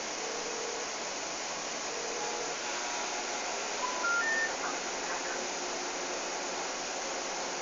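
Telephone dialing tones in The Sims on PlayStation 2: a few faint, brief keypad beeps around the middle, set against a steady hiss of background noise.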